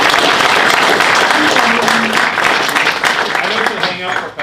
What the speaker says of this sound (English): let's give Annie Phillips a big round of applause